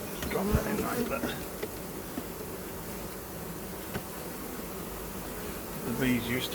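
Honey bees buzz steadily around an open Flow Hive during an inspection, a continuous close drone running throughout, with a few brief knocks and a person speaking quietly.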